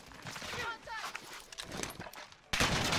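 Gunfire from a first-person shooter game bursts out in a short volley, loud and close, partly under excited players' voices, with a sharp louder blast near the end.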